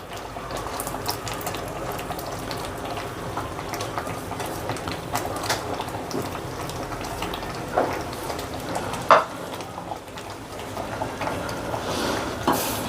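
Rohu fish and moong dal curry, Rui Mughlai, gently stirred in a pan: a soft, continuous bubbling simmer with occasional light scrapes and clinks of the spoon, close by and steady throughout, without speech.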